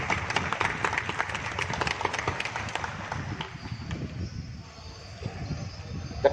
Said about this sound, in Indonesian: memberikan tepuk tangan yang meriah buat Pak Pandu